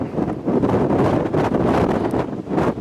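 Strong wind buffets the microphone on a hike above a plateau on Réunion's volcano, in heavy, rumbling gusts that rise and fall continuously, with no other sound cutting through.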